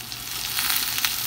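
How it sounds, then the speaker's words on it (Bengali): Chopped onion, garlic and green chili sizzle steadily in hot oil in a pan, a bright, continuous crackling fry close up with no talking. "তেলটা গরম হয়ে গেছে, এখন আমি পেঁয়াজ রসুন কাঁচামরিচ একসাথে দিয়ে দিব।"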